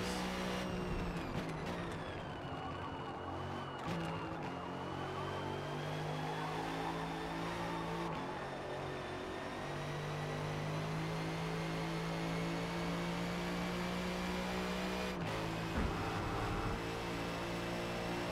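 Race cars in Forza with GT3 cars, driven without assists, roar through a long run of revving engine, shifting pitch as the car accelerates and brakes. A sustained tire squeal rides over the steady, close, continuous engine drone.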